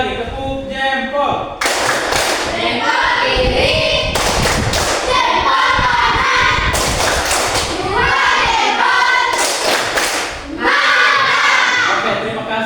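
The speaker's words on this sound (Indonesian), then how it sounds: "Ulang sekali lagi. Tepuk jempol." A class claps thumbs together as an applause game, producing repeated bursts of rhythmic patting thuds, loud and close, with a leader speaking and chanting between rounds.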